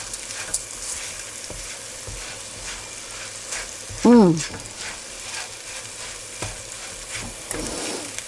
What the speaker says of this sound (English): Right, that's my wild mushrooms gone in. So I'm just stirring.